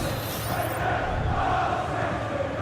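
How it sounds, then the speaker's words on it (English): A stadium crowd in the football video game FC 25 roars after a late goal, a dense continuous wall of cheering and chanting, loud and sustained throughout. "just listen to this crowd. They want a bit more."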